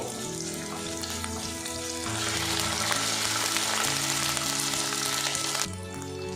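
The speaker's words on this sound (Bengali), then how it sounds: "পেঁয়াজের সাথে আদা রসুনটা আমি ভাজা ভাজা করে নেব" Chopped onion with ginger garlic paste fries in a pan with a steady, close, continuous sizzle that swells partway through, with no talking.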